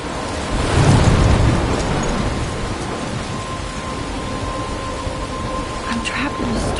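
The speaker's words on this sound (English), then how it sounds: "I'm trapped in a storm?" Thunderstorm with steady heavy rain in the video game Life is Strange, a deep rumble of thunder swelling early and then a constant dense hiss of rainfall.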